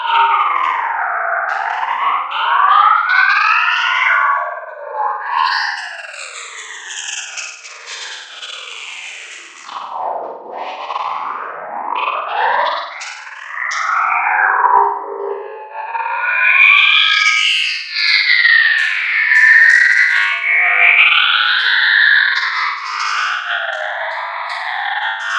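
A synthesized hi-hat, pitched down twelve semitones and heavily modulated, turns into a swirling, sweeping atmospheric tone. Its pitch slides up and down in wavering chorus-like waves, loud and continuous for the whole stretch, with no talking.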